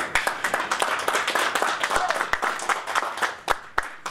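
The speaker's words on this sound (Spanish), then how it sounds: "para que pedimos un aplauso" An audience at a conference on Living Labs and European–Latin American cooperation applauds a speaker, with sharp individual claps over a dense, lively patter that holds at even loudness.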